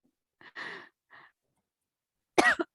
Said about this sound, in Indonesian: Saya batuk-batuk nih.